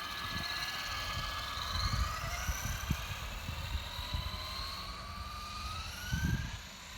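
A Traxxas Slash RC car fitted with a large 31-turn motor whines as it speeds up, a rising electric tone heard at a distance, with faint rumbling bumps of the truck over the ground.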